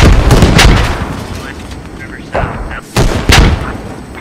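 Gunfire in the military shooter game Squad during an anti-tank engagement with a BMP: several loud, close shots and booms in bursts, with voices talking over and between them.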